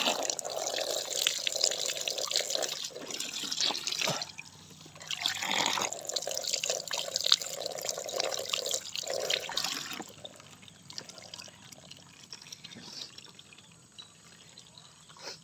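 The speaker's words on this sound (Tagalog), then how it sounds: "Ang shower here." Water runs from a backyard shower, a continuous splashing stream that thins and pauses around four and ten seconds before flowing more quietly.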